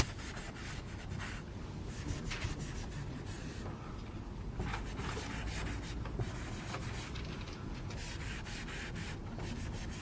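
A board being erased during a computer logic recitation: steady, close rubbing and scrubbing strokes that continue for about ten seconds, fairly quiet, with no talk.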